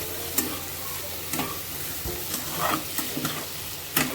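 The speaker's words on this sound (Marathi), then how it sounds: "आता हे छान आपण मिक्स करून घेऊया चांगलं परतून घ्यायचं आहे" Kurdai bhaji, a Maharashtrian dish of kurdai, being stirred and sautéed in a pan with masala, giving soft sizzling and a few sharp spatula scrapes and clinks against the pan.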